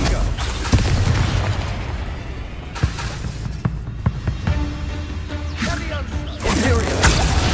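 Confringo spell blasts in the Hogwarts Legacy video game, a loud flurry of booming bursts, whooshes and sharp pops mixed with combat effects and shouted dialogue, dense and close throughout.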